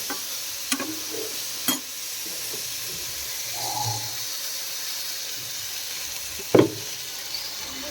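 Fish heads fry in hot oil with a soft, steady sizzle, broken by a few sharp, sudden pops and splutters at irregular intervals, close by and with no talking.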